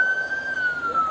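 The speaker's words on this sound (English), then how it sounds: "turn your sirens off" Police car siren wailing steadily in a single sustained tone that slowly drops in pitch, loud and continuous over a noisy background with faint voices.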